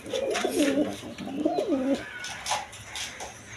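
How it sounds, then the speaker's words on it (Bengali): Blue bar shorting pigeon cooing close by, two rolling coo phrases in the first two seconds followed by faint rustling and small chirps. "এইখানে আরেকটা শার্টিং কবুতর আছে, এটা হলো ব্লু বার কালার শার্টিং"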